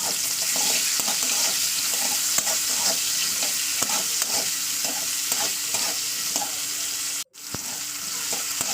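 Onions frying in hot oil in a wok, stirred steadily: a loud, continuous sizzle with regular scraping strokes, briefly cut off near the end before resuming.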